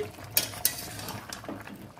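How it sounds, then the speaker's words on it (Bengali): Country chicken curry is stirred in a pan over a high flame: a spoon clinks sharply against the metal twice, followed by softer scraping and stirring noises. "ভালো করে নাড়াচাড়া করছি। ফ্লেম হাই আছে।"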